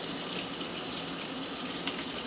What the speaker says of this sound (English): Turn on our water.